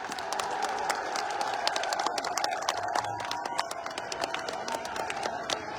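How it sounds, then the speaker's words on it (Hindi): Steady applause from a large outdoor political rally crowd in Agra, Uttar Pradesh, welcoming a speaker, a continuous dense patter of many clapping hands with a faint murmur of voices underneath, loud throughout. "जोरदार ताली बजाकर स्वागत करें।"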